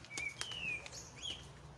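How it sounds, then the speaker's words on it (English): Faint birdsong with a few thin, high whistled notes and short chirps, spaced apart over quiet outdoor background. "can hear the birds singing I hope you can hear them"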